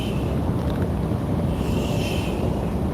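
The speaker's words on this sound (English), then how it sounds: "the sound of waves crashing on the beach, but not like crazy waves." Gentle waves wash onto a beach in a continuous, loud, broadband roar with wind-like hiss, no voices present.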